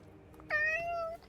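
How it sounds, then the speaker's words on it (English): A cat in the video game Forspoken gives a single clear, rising-then-falling meow against a quiet background. "Hey, that cat."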